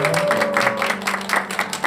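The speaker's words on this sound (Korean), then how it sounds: "우리 우레와 같은 박수" A church congregation breaks into loud applause, a dense, continuous wash of clapping filling the short moment with some tonal sound mixed underneath.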